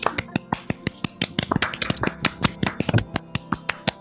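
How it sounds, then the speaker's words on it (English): A few people clap together, sharp distinct hand claps in a loose rhythm that sometimes line up and sometimes stagger, bunching into a quicker flurry midway before settling back into separate evenly spaced claps. "Everyone clap."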